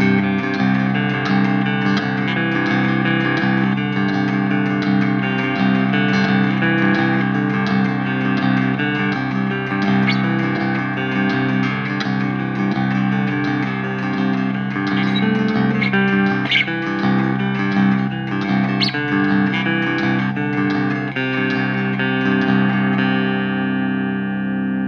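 Heavily distorted electric guitar through a Peavey 6505+ amplifier plays a dense, sustained chugging riff, loud and continuous throughout with no talking.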